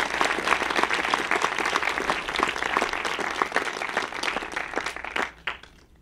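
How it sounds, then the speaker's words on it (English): Audience at a Santa Monica film festival Q&A applauding filmmakers, lively clapping with distinct individual claps that stays strong for several seconds, then tapers off near the end. "Let's give them all another round of applause."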